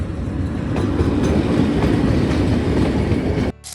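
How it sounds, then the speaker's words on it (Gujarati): A train rumbles past close by at a railway crossing, loud and steady with rhythmic clattering of wheels on rails, then cuts off abruptly at the end. "મસ્ત મજાની ટ્રેન જાય છે"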